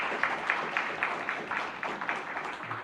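A conference audience at a tech summit applauding after a talk on AI governance, steady moderate clapping from many hands in a hall, rhythmic and sustained without voices.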